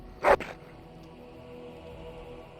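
A dog in the video game Dragon Age Origins gives a single short bark, followed by a low, steady game ambience.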